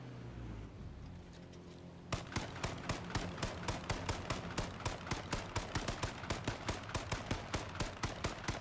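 Rapid automatic gunfire in a battle royale video game, a close, loud, evenly spaced stream of shots that starts abruptly and continues to the end after a quieter opening.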